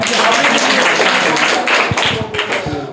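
A crowd at a private school prize event in Bihar applauds with dense, loud clapping that thins into scattered claps near the end.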